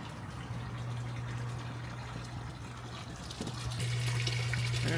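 Water discharging from a boat's HVAC pump outlet, a steady rushing flow with a constant low pump hum that grows louder partway through, heard close with no talking.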